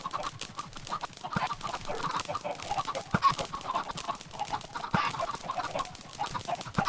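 Minecraft chicken farm, game audio: many chickens clucking in overlapping, irregular bursts throughout, a busy steady flock chatter at moderate loudness with scattered louder squawks.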